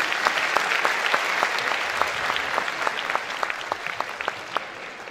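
An audience at a music night applauds the sound mixer, a steady dense clapping with sharper individual claps standing out, continuing for several seconds.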